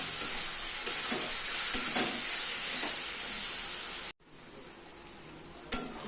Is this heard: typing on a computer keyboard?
no